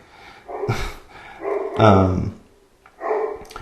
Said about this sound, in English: my apologies for the dog in the background